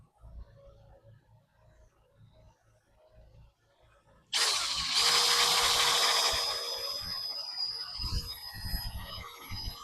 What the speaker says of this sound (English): we'll go ahead and we'll drill the first hole